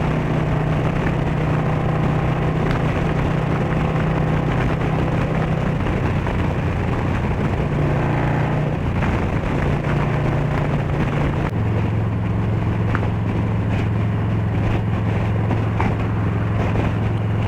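A Harley-Davidson Street Bob 114 with a Stage 2 upgrade roars as a loud, steady engine drone while riding, its pitch stepping up and down with throttle changes under heavy wind buffeting.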